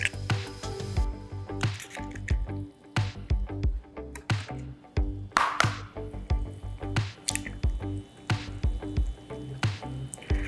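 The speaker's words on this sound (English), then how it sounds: "we're gonna crack our eggs into the pan, careful not to break the yolks" Eggs cracked one by one into a pan of bubbling salsa for shakshuka, with a steady wet simmering crackle and repeated sharp, close taps and drips throughout.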